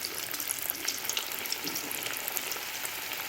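Onion pakoda batter fries in hot oil in a kadai, a dense, continuous crackling sizzle that stays close and even throughout, with no voices.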